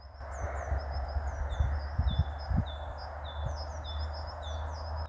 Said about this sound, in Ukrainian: Сонечко сідає, птахи співають.